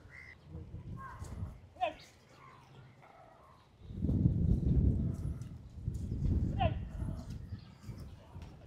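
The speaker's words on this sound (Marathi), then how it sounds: "आता सर्व म्हशी खालून वरती आलेल्या आहेत." A herd of buffaloes walking up a village path, uneven hoof thuds that swell as the animals pass close, with birds chirping and voices in the background.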